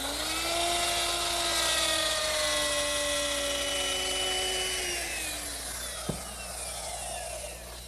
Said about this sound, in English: I'll use my router with sort of an unusual bit